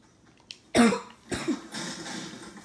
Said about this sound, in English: I cannot let my coughing distract me.